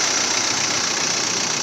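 A Mk1 Audi TT fitted with a 1.9 TDI diesel engine idles steadily and close by, a dense, even rumble that holds throughout with no voices.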